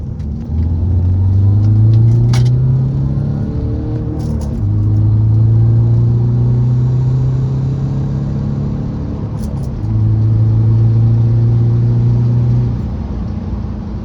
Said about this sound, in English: When you come to a stop, the whole cabin vibrates